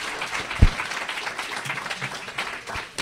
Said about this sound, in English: let's give a big round of applause for David.